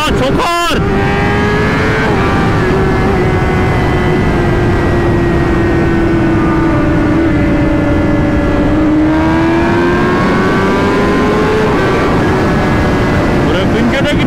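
A Kawasaki ZX-10R sportbike ridden at night, its engine droning loud and steady at high revs with slowly shifting pitch, heavy wind rush over everything and a brief sharp burst near the start.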